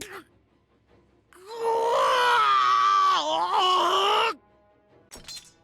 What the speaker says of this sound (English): Sanan screamed in anguish, dropping the sword he was gripping.